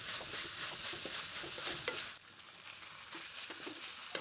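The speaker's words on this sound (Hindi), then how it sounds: "अब हमने प्याज को डाल दिया है, इसको भी थोड़ा सा फ्राई करते हैं।" Chopped onions frying in a pan for chicken vegetable spaghetti, a steady close sizzle with stirring scrapes, growing briefly quieter midway before the sizzle picks back up.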